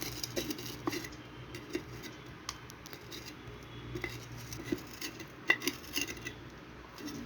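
Widening a drainage hole in a clay yogurt-pot planter makes faint, sparse scrapes and small clinks against a quiet background, with no talk.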